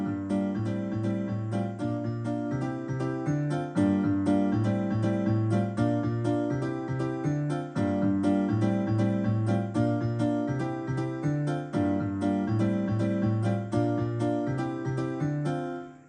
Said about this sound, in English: So here's the M1 piano.